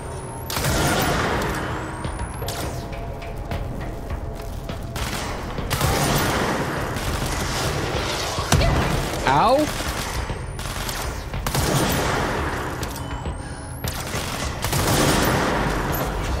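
Gunfire from a gun in the video game Control, repeated rapid bursts of shots and booms recurring across the clip, loud and close amid other game sounds.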